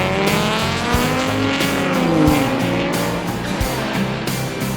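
Alfa Romeo GTV V6 and 75 V6 race cars lap a circuit at a classic car event, engines howling close by through repeated shifts and passes, with brief tire squeal over a continuous roar.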